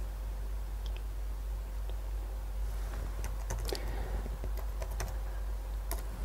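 Keys clicking on a newly replaced keyboard of a Toshiba C660 laptop, with scattered, irregular taps and short bursts over a steady low hum.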